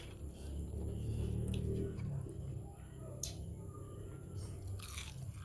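Crispy fried triggerfish being chewed with close, crunchy bites over a low background rumble, and some speech-like sound mixed in.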